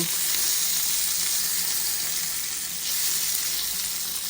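Continuous bright sizzling and crackling of fish frying in hot oil in a pan, steady and close throughout with no talk.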